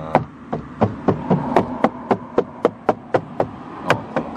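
Repeated hollow knocks on an undamped car body panel of a Daihatsu Move, about fifteen evenly spaced taps over four seconds, close and clear against faint wind noise.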